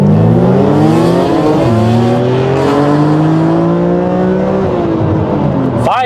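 A BMW Z4 M on Continental tyres launches hard from a standstill in a 0-60 run on a slightly damp road, its engine roaring loud and close as it climbs through the revs, dips briefly at each gear change, then climbs again.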